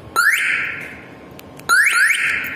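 A Honda Joker scooter's alarm wails loud and close in two rising electronic siren sweeps, each starting abruptly and holding a steady tone before cutting off, with no voices.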